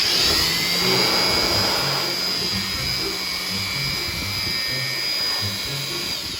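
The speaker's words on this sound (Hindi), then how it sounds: "मैं ब्लोअर भी ऑन कर लिया है" Electric blower roaring steadily while drying a freshly washed Honda CG 125 motorcycle indoors, a continuous loud whooshing hum with a high whine throughout, no speech.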